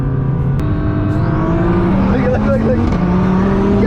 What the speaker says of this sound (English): 1400 horsepower Viper, guys.